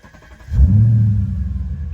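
A manual Audi S5 V8 with 105,000 miles starts: a starter whirr, then the engine catches into a loud, deep rumbling idle that settles and keeps burbling, heard up close from inside the car, with no talk.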